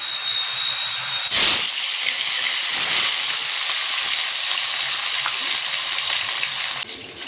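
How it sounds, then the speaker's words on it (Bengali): Topse fish fried in hot oil give a loud, steady sizzle that bursts in as they drop into the pan and carries on as a dense hiss, then eases slightly near the end. "তেল গরম হয়ে গেছে, মাছগুলো দিয়ে দিই।"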